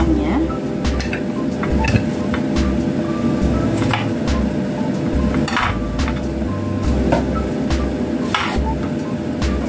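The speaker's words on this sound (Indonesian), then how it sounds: "Kita potong dulu terongnya." Eggplant is chopped on a board with a knife in a home kitchen, giving a run of sharp, irregular knocks and taps over steady background noise.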